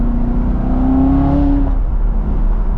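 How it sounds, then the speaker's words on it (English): A Chevrolet C7 Corvette Z06 engine drones close and steady while driving, its tone climbing in a brief rising whine before easing off to a lower rumble. "Oh, the sound of this car."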